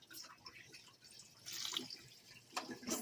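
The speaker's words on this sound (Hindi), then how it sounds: "इसमें डालूंगी मैं थोड़ा सा पानी" A small amount of water is poured into a mixer grinder jar holding onion, garlic and ginger, giving a faint, quiet trickle with a few soft splashes.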